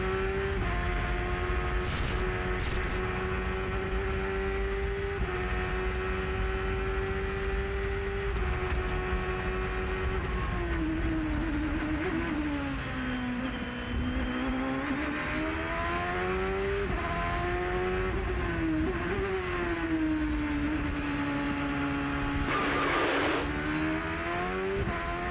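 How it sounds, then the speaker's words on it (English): Champ Car race car at full throttle on the Vancouver street circuit in 2004, heard onboard: a loud, continuous engine howl rising and falling through gear changes and braking across the lap, with no talk. "Let's ride full throttle with Paul Tracy."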